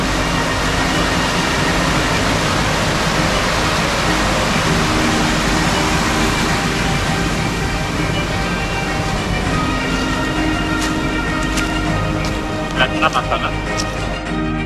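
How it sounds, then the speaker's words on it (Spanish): Steady rush of river water flowing near a bridge along a hiking route by Ademuz, a loud, continuous broadband roar, with a few faint higher clicks toward the end. "Aquí vemos el agua del río."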